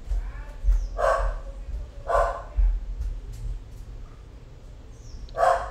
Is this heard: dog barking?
yes